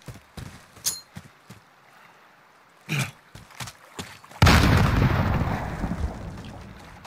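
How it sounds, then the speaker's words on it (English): A grenade blast in the video game Call of Duty: Modern Warfare: after scattered sharp clicks and thuds, a sudden loud, close explosion erupts and rolls on as a long, roaring rumble that fades slowly to the end. "Throw grenade."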